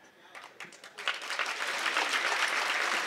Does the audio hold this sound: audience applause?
yes